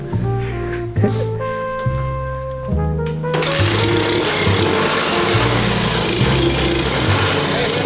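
A Lifan engine fitted to a Honda S90 motorcycle idles with a steady, buzzing putter that fills the second half, preceded by a few shifting tonal steps; no talking.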